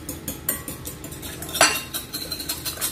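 A whole egg being beaten by hand in a bowl with a utensil for red velvet cake, giving quick, rhythmic clinks and scrapes of metal against the bowl, close and fairly clear, with one sharper knock partway through.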